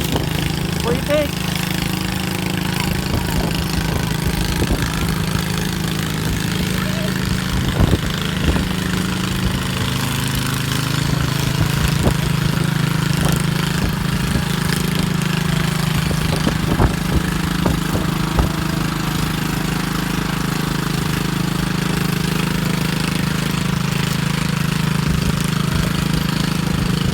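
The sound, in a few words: modified Cub lawn tractor engine at a tractor pull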